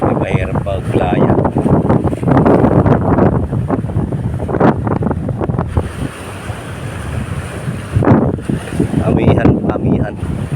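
Strong northeast wind by the sea at a mangrove park in Looc, Palanas, buffeting the microphone with loud gusty rumble and surf, while people talk over it.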